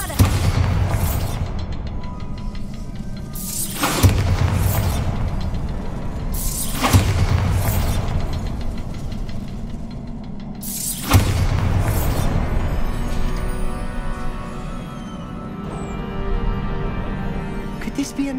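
Bombarda explosion spells in Hogwarts Legacy go off as four heavy booming blasts at roughly three-second intervals, each with a sharp crack and a rumbling low tail, followed by quieter rumble.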